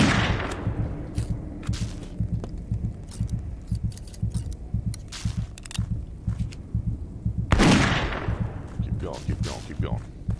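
Gunshots ring out from a gun in the video game Witch Hunt, fired in a rapid, uneven string of sharp bangs while hunting a huge tree creature in a forest, with a heavier blast near the end and a voice speaking over them.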